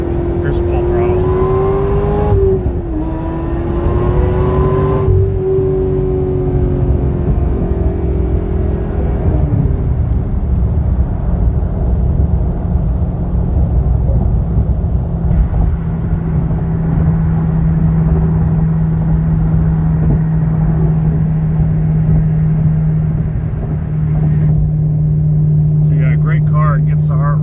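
A Chevrolet Corvette ZR1 engine is revved hard at full throttle while driving. Its deep engine note climbs and holds loud and close over constant road and wind roar throughout the long stretch.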